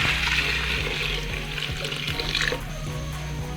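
Broth (yakhni) pours steadily into a soup pot for hot and sour soup, a continuous close liquid splashing and trickling that runs alone for a few seconds and eases slightly near the end.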